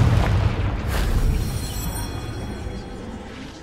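A Confringo fire-blast spell explodes in Hogwarts Legacy, a loud deep boom with a rumbling tail that slowly fades over a few seconds.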